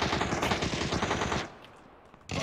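Rapid automatic gunfire in the video game PUBG, a dense loud burst of shots lasting about a second and a half, then a lull with faint sounds before another burst starts at the end.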